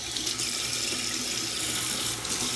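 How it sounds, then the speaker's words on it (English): Water runs steadily from a tap at a sink while a face mask is being rinsed off, a constant close-up hiss and splash with no talking. "So I actually prefer to rinse this off because I feel like the mask has done what it's gonna do."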